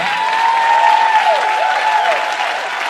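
A church congregation keeps clapping for its pastor, a thick, steady wash of applause with some cheering, joined by a sustained, wavering high tone that rides over the crowd.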